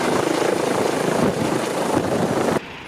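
A rescue helicopter at a high-rise building fire drill makes a loud, close, steady rotor thrum with rhythmic blade chop. It drops sharply near the end.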